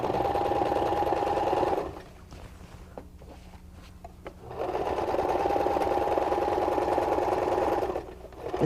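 A sewing machine back-tacking and stitching drapery fabric runs in two steady, close bursts of even, rapid needle chatter, separated by a quiet pause of a few seconds.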